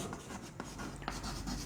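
Chalk or marker writing on a classroom board during a chemistry lecture, a steady soft scratching with a few sharper strokes, close and alone without talk.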